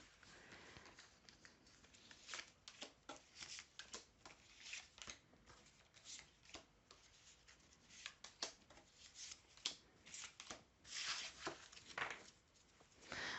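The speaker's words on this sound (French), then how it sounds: "Je remélange et on va remettre des cartes." Tarot cards are shuffled by hand, a steady, faint stream of soft riffling flutters and papery slaps that continues for several seconds with no voice over it.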